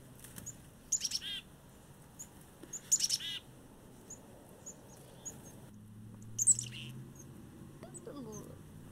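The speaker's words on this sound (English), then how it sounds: "So listen for this like weird gurgling chickadee call." A chickadee gives an odd, gurgling call in a few short, sputtering bursts spaced a couple of seconds apart, fairly faint over a quiet outdoor background with a low hum coming in near the end.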